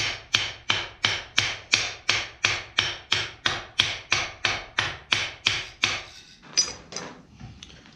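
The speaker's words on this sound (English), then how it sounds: "just hitting it down with a ball peen hammer" Ball peen hammer striking hot steel to forge a nail head, about sixteen evenly spaced ringing blows close up, then a few lighter taps and scraping near the end.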